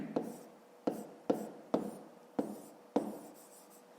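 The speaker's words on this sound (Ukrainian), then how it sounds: "записуємо так" Pen strokes tap and scratch on paper in a steady run of six or seven sharp marks, close and quiet over a faint room hiss.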